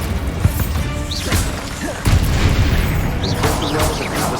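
A Bombarda spell explosion erupts in Hogwarts Legacy amid a dense, clattering barrage of booms and crashes, with a sharper heavy impact about midway and a loud rumbling wash afterward.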